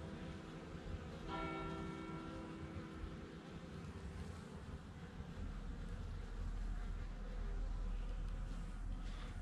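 Honeybee colony humming inside a hive during a winter check, a steady faint drone with a bell-like ringing tone partway through and low rumble later, no voices.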